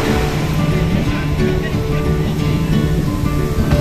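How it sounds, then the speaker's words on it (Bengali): Big Arabian Sea waves at Baina Beach in South Goa, a loud, continuous roar of surf breaking close by with no clear gaps between swells. "এখানে তো দেখছি প্রচন্ড বড় বড় ঢেউ।"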